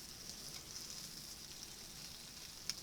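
Food frying in a pan over a small 10 cm woodgas stove, a faint steady hiss of sizzling with a few tiny pops, quiet and continuous with no talk.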